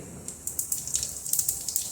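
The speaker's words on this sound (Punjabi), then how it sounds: "ਤੇਲ ਗਰਮ ਹੋ ਚੁੱਕਾ ਤੇ ਮੈਂ ਜੀਰੇ ਨੂੰ ਪਾ ਦਵਾਂਗੇ" Cumin seeds dropped into hot oil crackle with a close, steady sizzle and a run of sharp pops, heard alone without talk.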